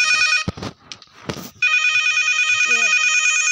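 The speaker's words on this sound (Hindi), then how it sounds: "फोन बजा रहा है।" A telephone rings in a horror survival video game, a loud electronic trilling ring that starts after brief shuffling and bumps, with a faint voice-like sound partway through.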